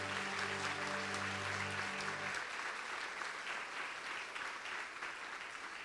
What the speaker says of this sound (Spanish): Aplauso a Dios por nuestra familia.